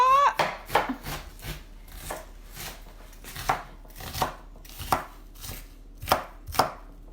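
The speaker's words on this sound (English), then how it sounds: "Those who are ready, cut this onion." A knife chops an onion into tiny pieces on a board, with about a dozen sharp close thuds in an uneven rhythm over a quiet background.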